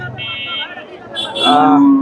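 A Jersey cow lets out a drawn-out moo close by at a cattle market in Bogura, its low tone rising toward the end, with other farmyard noise around it.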